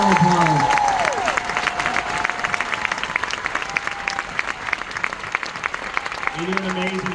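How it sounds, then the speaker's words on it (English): Audience at a leaders retreat general session applauding, dense steady clapping that runs throughout at moderate distance, with someone speaking over the start and end. "Big round of applause."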